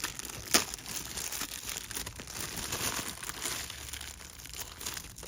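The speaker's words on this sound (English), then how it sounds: "which I'll go ahead and take out of its packaging" Anker Soundcore Select 4 Go speaker lifted out of its packaging, with steady close crinkling and rustling of wrapping throughout and one sharper crackle near the start.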